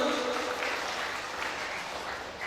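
Applause from an audience at a Quran memorization graduation ceremony in a village, a dense, steady burst of clapping filling the whole short moment.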